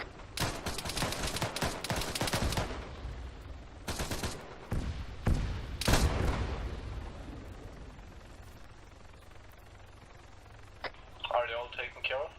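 Bursts of gunfire in the Arma 3 military game as mines are shot, rapid volleys of shots over the first half, with radio-style voices talking.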